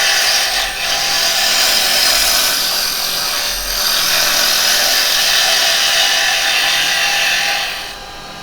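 A wood lathe turning yew while a scraping cut is taken, a loud continuous hissing, rasping roar with brief dips as the tool eases off, close up and without talk.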